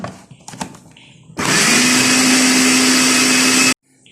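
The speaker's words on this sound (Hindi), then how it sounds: "सब्ज़ मिर्च भी मैं इसके अंदर डाल के चॉप कर लेती हूँ ताकि ये भी फाइन हो जाए थोड़ी" An electric chopper whirs loudly and steadily as it chops green chillies, a continuous motor drone lasting about two seconds after a few quiet kitchen clicks, then cutting off abruptly.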